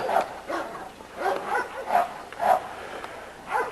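A small dog named Scarlet barks in a yard in a quick series of about seven sharp yaps, spaced roughly half a second apart, close and fairly loud, with no talk over them.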